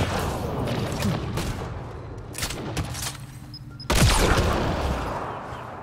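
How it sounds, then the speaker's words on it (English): Gunfire and a blast from the sci-fi shooter Mass Effect: Andromeda: rapid bursts of shots give way to a sudden loud explosion near the end, with game sound underneath and no speech. "I know it looks like I just made an explosion from my gun"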